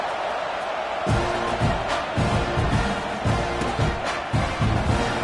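Stadium crowd at a football game, a broad distant murmur with faint thumps and swells, no standout cheer.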